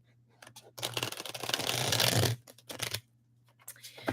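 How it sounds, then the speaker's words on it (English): A deck of tarot cards is shuffled by hand, giving a close, crisp riffling and slapping of card stock in several bursts, with one longer continuous shuffle in the middle and short pauses between. "so let's shuffle"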